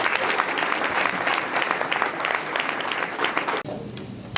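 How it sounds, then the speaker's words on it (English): An audience at a county candidates night forum claps steadily and loudly for the two candidates, a dense sustained applause that ends abruptly near the close. "Jennifer French and Andy Miller, how about a round of applause for both of them, please?"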